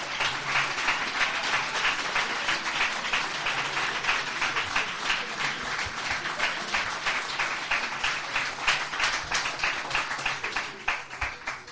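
Sustained audience applause at a Spanish talk about a theatre production, dense rhythmic clapping from a large crowd that carries on for about twelve seconds before starting to thin out at the end.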